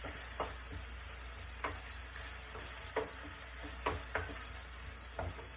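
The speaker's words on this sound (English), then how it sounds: "I'm just going to stir the onions and just basically wait for the onions to get slightly brown" Onions frying in a pan for cottage pie, with a steady low sizzle and a handful of sharp scraping stirs spaced every second or so, close by with no talking.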